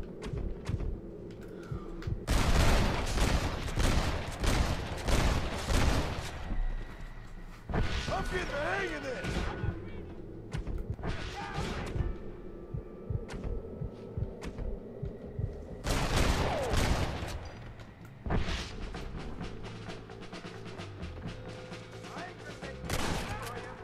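Red Dead Redemption gunfire cracks out in several loud bursts of shots between stretches of talking and steady background game sound.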